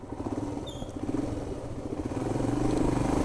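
A 2018 Royal Enfield Himalayan BS4 motorcycle engine is revved as the throttle opens, its pulsing single-cylinder rumble rising and growing louder toward the end.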